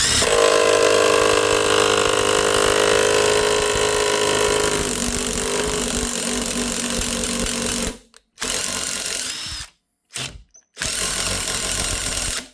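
An impact wrench hammers a fastener through a 3/8-inch drive deep impact socket in a loud, continuous rapid rattle, then stops and restarts in short bursts with brief silences between.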